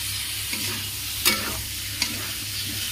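Potatoes frying in a pan with soybean chunks make a steady close sizzle, broken by a few sharp scraping stirs of a spatula.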